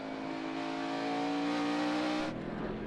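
A NASCAR Cup Series race car at speed on the Sonoma Raceway road course, its engine a loud, steady high drone with whining harmonics that holds for about two seconds and then cuts away abruptly.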